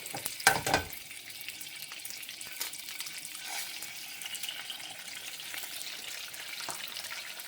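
An egg frying on a griddle for a bologna, egg and cheese bagel sandwich, a soft continuous sizzle after a brief louder clatter at the start, fairly quiet and close with no voices.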